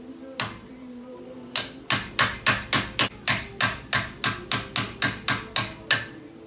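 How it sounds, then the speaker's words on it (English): Metal hammer blows knocking the brake pad keeper out of a 1976 AMC Pacer front brake caliper: one strike, a pause, then a steady run of about fourteen sharp, evenly spaced ringing hits, close and loud. "you knock this piece out"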